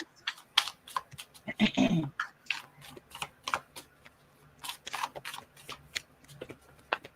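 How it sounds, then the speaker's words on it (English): Tarot cards shuffled for a reading, close crisp riffles and taps in uneven bursts with one longer flurry, alone without talk. "We're going to pull some cards for you."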